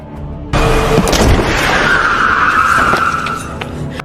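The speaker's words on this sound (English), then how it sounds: "Stansfield appears and runs him over with his car." A car skids hard as it runs down an old man: a loud, sustained tire-and-engine screech that bursts in after a quiet start and holds for several seconds before easing slightly.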